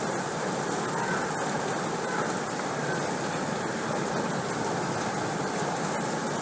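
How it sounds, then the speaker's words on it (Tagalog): Heavy monsoon rain pours down during a flood, a loud, unbroken hiss and roar that holds steady for the whole stretch with no talk. "Nakakita niyo naman yung dagundong ng ulan"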